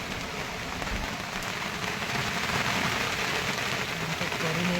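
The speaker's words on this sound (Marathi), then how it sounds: "पाऊस पडतोय आहे" Steady rain falling, a dense continuous hiss of drops on a surface that holds even throughout, with faint murmuring beneath.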